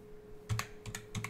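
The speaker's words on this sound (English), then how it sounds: "Now type here dism.exe" Typing on a computer keyboard: a few quick, soft key clicks in small clusters, close and faint, with no talking.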